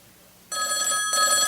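An old telephone bell rings in a loud, sustained electric trill after a quiet start, briefly dipping before ringing on.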